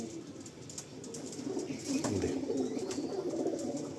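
Purebred Andhra Lambadi pigeons from Andhra Pradesh coo softly and steadily, a faint, close murmur that swells slightly partway through.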